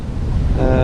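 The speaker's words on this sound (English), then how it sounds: "as I'm approaching the coastline here, the waves got bigger and I've been thrown everywhere." Strong wind of around 18 knots and rolling sea waves rush past a sailboat nearing a rocky Swedish archipelago coastline, a loud, close, continuous roar of wind across the microphone with surging water.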